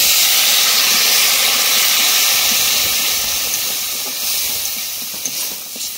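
Water poured into a hot pan of fried curry over an outdoor riverside cooking fire sets off a loud, steady steam hiss that covers the whole stretch and eases slightly toward the end, with no voices.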